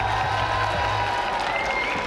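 Fans cheer and applaud at a Rocket League quarterfinal at the Esports World Cup 2025, a dense, steady wash of clapping and crowd noise that fills the whole stretch at close, loud level.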